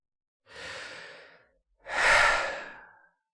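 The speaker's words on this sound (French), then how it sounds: "Et en prenant une grande respiration comme ça" Two slow, deep breaths during a guided relaxation exercise, a long soft inhale followed by a louder, fuller exhale, close and alone in silence.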